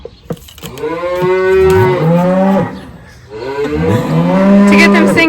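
Two long, loud cow moos close by, one after the other with a short pause between them.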